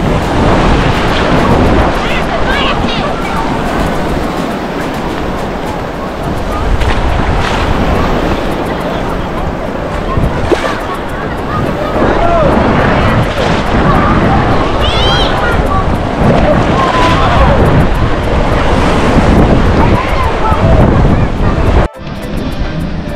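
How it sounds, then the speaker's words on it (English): Ocean waves roll onto a beach in Santa Marta, Colombia, a continuous loud surf wash with heavy wind buffeting the microphone and faint voices in the background. "The beach has a lot of awesome waves too."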